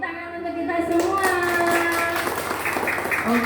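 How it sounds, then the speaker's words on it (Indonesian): Schoolchildren in an Indonesian primary school classroom clap their hands in a steady round of applause while children's voices chatter and call out over it. "Tepuk tangan untuk kita semua."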